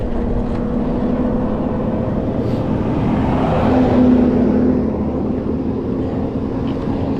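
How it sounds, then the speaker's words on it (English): A big truck passes on the road near a cyclist, a heavy low engine rumble with a steady hum that swells briefly in the middle and eases off, under wind noise. "Uh-oh, big truck's coming."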